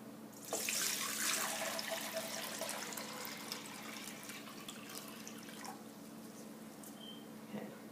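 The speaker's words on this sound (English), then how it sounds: "I'm going to dump the water into the bowl." Water poured from a container into a bowl, a steady splashing rush that starts strongly near the beginning and tapers into a continuous trickle, heard alone at close range.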